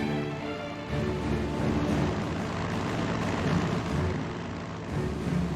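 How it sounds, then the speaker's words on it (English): Steady, loud drone of a bomber's propeller engines in a wartime strategy game, continuous and close with a slight swell in the middle. "Flying a bomber is one hell of emancipation."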